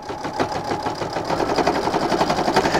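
A sewing machine runs steadily while top-stitching a pocket on a tech charging station project, its fast rhythmic needle chatter continuous and close for the whole stretch.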